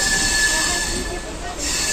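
A MEMU commuter train on the Howrah to Ghatshila route runs with a loud, sustained high metallic wheel squeal over a steady rolling rumble, dipping briefly before rising again.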